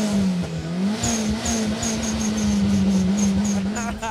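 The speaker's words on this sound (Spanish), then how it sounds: "El sonido lo vas a encontrar adelante en el motor." Loud, close engine drone from a tuned car in Peru, holding a steady low pitch with slight rises in revs and a faint higher chirping on top, with no clear speech over it.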